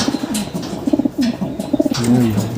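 Racing pigeons coo in repeated soft, throaty bursts, close by, with a steady low rumble underneath.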